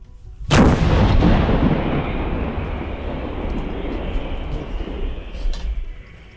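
A single powerful artillery gun blast booms nearby after shouted firing commands, followed by a long rolling rumble and echo that slowly fades.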